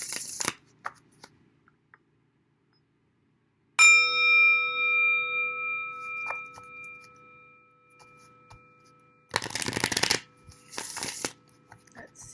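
Tarot cards shuffled by hand in a quiet room, a couple of brief bursts of riffling near the end, with a ringing bell-like chime sustaining in between and faint handling noises around it.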